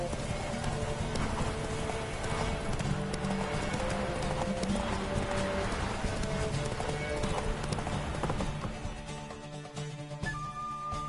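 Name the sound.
horse galloping in The Witcher 3 video game race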